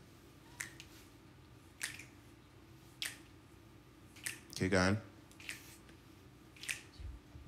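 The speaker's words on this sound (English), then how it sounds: "what I need you to do is just snap like this" Audience members at an MNEK live session snap their fingers in a loose steady rhythm, soft sharp clicks about once a second, with a voice briefly speaking over them midway.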